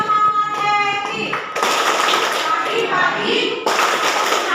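Children clap and chant in a classroom cheer, a rhythmic run of claps and voices that swells in bursts, with a teacher's voice leading at the start.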